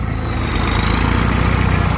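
A 36 hp tractor's engine roaring at a village tractor-pulling competition, a loud, dense, continuous diesel drone with a fast chugging pulse, close and unbroken throughout.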